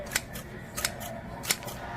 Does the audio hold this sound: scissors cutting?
yes